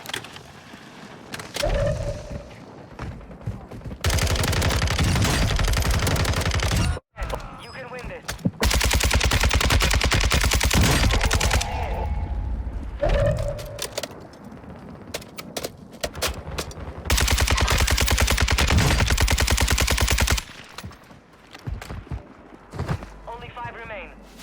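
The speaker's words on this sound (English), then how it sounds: "I got some initial shots off the enemy" Bursts of RPK light machine gun fire in Warzone 2 on Ashika Island, several long sustained volleys separated by short pauses, loud and close, with a voice talking in places.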